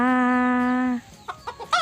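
A chicken gives a long drawn-out call, then a few short clucks close by.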